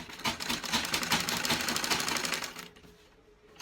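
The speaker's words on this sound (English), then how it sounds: "what I'm going to do now is to top stitch my neckline" A sewing machine runs steadily while topstitching the neckline of a princess bustier, a fast, even mechanical whirr close by that continues for most of the clip and then stops, leaving quiet.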